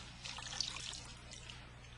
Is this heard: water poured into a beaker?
yes